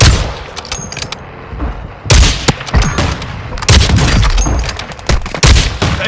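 Intense gunfire in the video game Call of Duty Warzone 2.0, rapid automatic bursts and sharp shots crackling close and loud in several volleys, with short pauses between exchanges.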